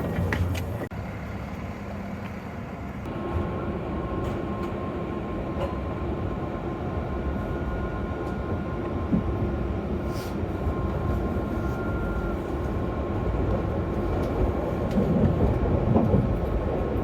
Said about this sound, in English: It's so nice to be able to go over switches at full speed on a tram.